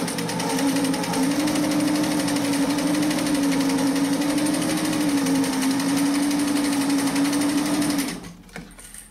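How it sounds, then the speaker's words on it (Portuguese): Sewing machine stitching fabric with thread fed from a cone, running at a steady, continuous hum for about eight seconds before stopping with a few faint clicks. "Eu passei a linha normalmente, vindo dali do cone, e vou costurar."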